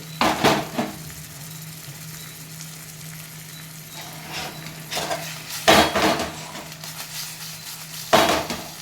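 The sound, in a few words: gently stirring fish curry in a pot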